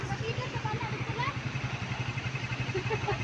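Motorcycle engines idle and putter with a steady, rhythmic low throb on a flooded road, mid-distance and continuous, while people talk over them.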